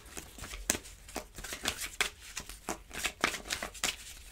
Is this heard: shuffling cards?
yes